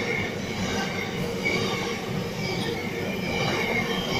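Freight train hauled by NR class locomotives passing at a station near a tunnel, a steady continuous rumble of rolling wagons with faint wheel squeal, moderately loud and unbroken with no voices.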